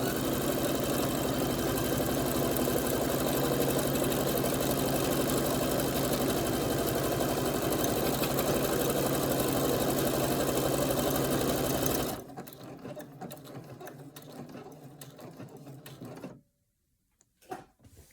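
A sewing machine stitches a buttonhole at full speed with a loud, rapid, continuous whir for about twelve seconds, then runs more quietly and stops.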